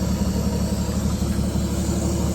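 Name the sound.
1956 Chevy 210 engine running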